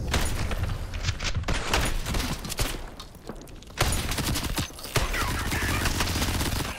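Rapid bursts of gunfire rattle in an indie first-person shooter game, loud and dense volleys broken by brief pauses, with sharp impacts throughout.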